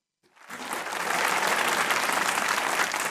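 Studio audience on a Pakistani comedy talk show breaks into clapping, rising quickly from silence into a full, sustained wash of applause.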